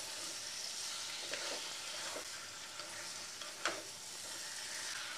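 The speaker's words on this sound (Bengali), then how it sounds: "চিকেনটা আমি ঢেলে দিলাম, চিকেন দিয়ে ভালো করে একটু কষাবো" Chicken sautés in hot oil in a pan with a soft, even hiss and a few faint stirring knocks scattered through it; quiet overall, with no speech.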